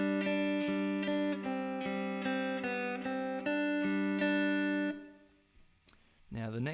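Guitar picks the first quarter of a section of a song, a series of ringing, evenly spaced notes sustaining over one another, close and clean, then fading out before a brief noise at the end.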